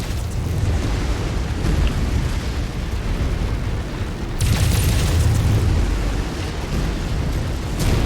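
A warehouse is destroyed in the video game Mechwarrior 5, releasing a loud, sustained rumbling roar of explosion and debris noise, with a second, sharper blast surging in partway through.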